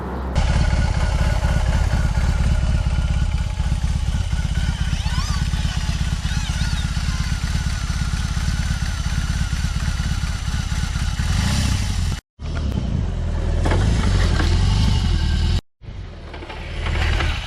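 A BMW R18 motorcycle engine runs loudly and steadily nearby, a deep rumble with shifting revs, briefly cutting out twice near the end.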